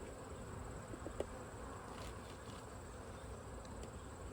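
Honey bees in an open hive give off a faint, steady buzz, a soft continuous drone with a few brief louder passes.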